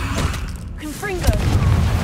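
A Confringo fire spell blasts in Hogwarts Legacy during a troll encounter, a sudden booming burst that swells and lingers under a voice and game sounds.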